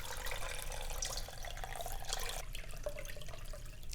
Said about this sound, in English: I'm gonna use 4 cups of water to wash it